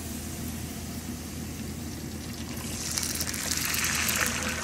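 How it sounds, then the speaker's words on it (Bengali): Water is poured into a pan while a rohu fish curry cooks, a steady gushing fill that rises in brightness and strength over the last couple of seconds above a constant background rumble. "এখন জল দিয়ে দিয়ে"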